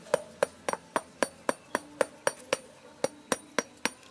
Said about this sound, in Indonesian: Ini ada palu, kemudian ini di bagian ini kita ketuk-ketuk ini.